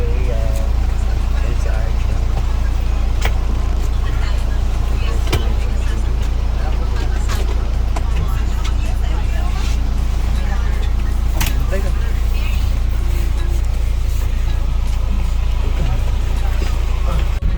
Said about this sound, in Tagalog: daming mga sasakyan